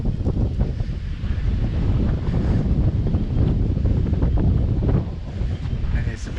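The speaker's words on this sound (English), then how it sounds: "Oh, it's windy up here." Strong wind buffets the microphone at Picnic Point, a dense, continuous low roar with gusty surges that swell and ease across the whole stretch, with no clear voices.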